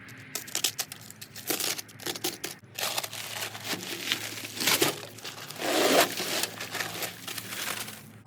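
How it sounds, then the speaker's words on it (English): Bag of cement being cut open and pulled apart, a string of crinkling, tearing paper rustles and sharp snips that come in uneven bursts, building to a louder rip near the end, close by with no speech. "one bag of cement. Cut it open."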